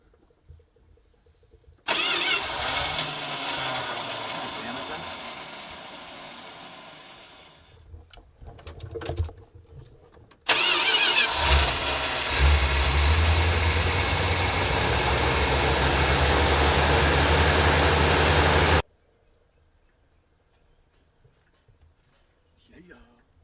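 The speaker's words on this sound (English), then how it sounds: "that's coming from the transmission" A Chinook RV's engine runs with transmission noise, a loud, steady mechanical roar that starts, dips briefly, returns stronger for several seconds, then cuts off abruptly.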